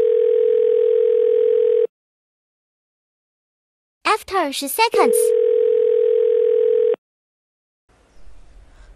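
An iPhone auto-redialing a call plays a steady, loud ringback tone that sounds for about two seconds, breaks off, then resumes for nearly three more seconds after a short burst of speech, before a quiet pause.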